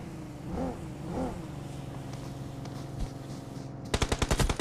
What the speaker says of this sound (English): then he continues to chuck the grenades non-stop